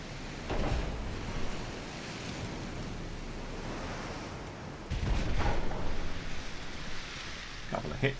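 Shell splashes in the sea from 4-inch naval guns in a British naval campaign game: two broad, roaring bursts of water spray rising over a steady wash of ocean and wind noise.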